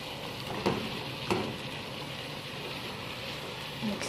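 Chicken salona fries in a pan with a faint, steady sizzle, broken by a few soft knocks of a spoon stirring, fairly quiet with no talking.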